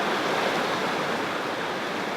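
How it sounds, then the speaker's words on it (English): A river flowing around a log in midstream at a valley's edge, giving a constant loud wash of rushing water with a faint breathy wind edge and no talking. "we're basically standing on a log in the middle of the river looking down towards the valley"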